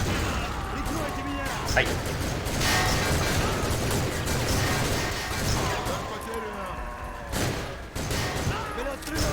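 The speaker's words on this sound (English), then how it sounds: "This M3A1 is only automatic fire." Automatic bursts from an M3A1 submachine gun in the shooter game Soldier of Fortune II, loud rapid fire with mechanical clatter, sometimes under a man's brief spoken remark.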